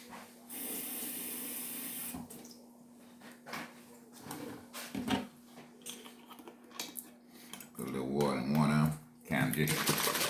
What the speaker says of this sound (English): Put a little water in, get all the sauce out.